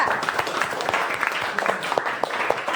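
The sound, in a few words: applause for a group of students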